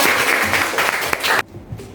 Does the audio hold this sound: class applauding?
yes